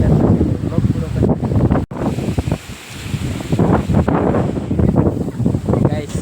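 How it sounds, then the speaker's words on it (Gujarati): Strong wind gusts through a village during a mini storm with rain, roaring and buffeting the microphone loudly and nearly nonstop, with a brief drop-out just before two seconds. "ગાઈસ રાતની જેમ અત્યારે પણ ફૂલ પવન ફૂંકાઈ રહ્યો છે, મિની વાવાઝોડું જોઈ શકો છો।"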